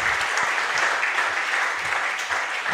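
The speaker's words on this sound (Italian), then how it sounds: "Un applauso a tutti voi" A crowd at a diploma ceremony applauds steadily, a dense wash of many hands clapping at an even level with no break.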